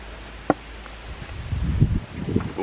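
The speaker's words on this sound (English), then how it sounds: "Oh, wind is coming up quick today. Hope that's not too bad in the microphone there." Outdoor wind buffeting a microphone in a garden, low rumbling gusts building in the second half, with one sharp tap early on.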